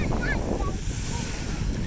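Waves wash steadily onto a beach in Valencia, Spain, a continuous rolling surf with wind rumbling across the microphone and faint bird calls in the background.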